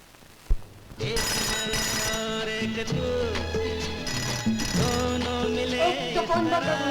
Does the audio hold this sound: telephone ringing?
yes